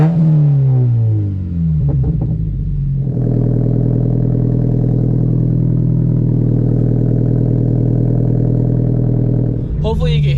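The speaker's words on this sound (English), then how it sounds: "Hopefully you can hear me over the exhaust while I'm driving" Gutted Scion FR-S with an MXP front pipe and Remark axle-back, no resonator or muffler, droning loudly and steadily while driving after a brief rev climb at the start, with a voice heard over it.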